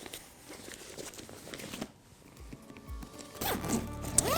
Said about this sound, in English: We then zip it up.